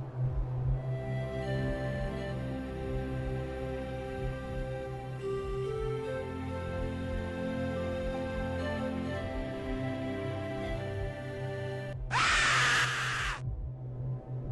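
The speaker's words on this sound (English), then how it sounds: "Then suddenly a grotesque image appears on the screen, accompanied by a loud and terrifying shriek." A sudden, loud, harsh shriek bursts out for about a second near the end of a creepy prank sequence, cutting through a steady, droning musical tone that plays throughout.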